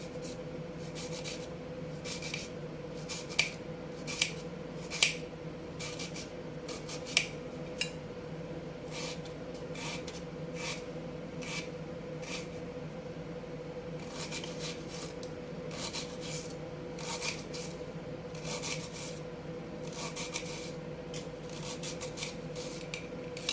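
A knife chops peeled onions into small pieces on a cutting board, producing quick bursts of crisp taps in an irregular rhythm over a steady background hum, close and fairly quiet.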